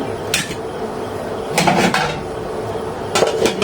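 Metal pot lid clanks onto a cooking pot while chalta pickle is made, three sharp clattering knocks spaced over a few seconds, close and distinct against a quiet kitchen background.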